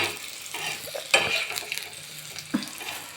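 A paneer vegetable curry sizzles in a pan as a spoon stirs and scrapes against the metal, with a few sharp clinks of utensil on cookware over a steady frying hiss, close and fairly loud.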